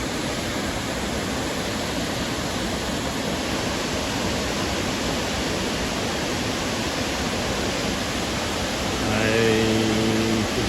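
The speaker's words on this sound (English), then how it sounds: "that's the most impressive waterfall so far" A waterfall pours in a steady, loud broadband rush that fills the scene without pause, with a faint animal-like call near the end.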